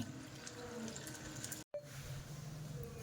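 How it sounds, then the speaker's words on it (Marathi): Lentils and fenugreek seeds being rinsed in water, a steady watery wash that runs continuously with a brief silent break near the middle and no talk. "ह्या सर्व प्रकारच्या डाळी आणि मेथी हे सुद्धा आपल्याला धुवून घ्यायचे आहे"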